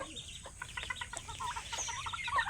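Hens clucking close by in a backyard poultry pen where chickens and ducks are kept, a run of short broken clucks and chatter over steady ambient noise.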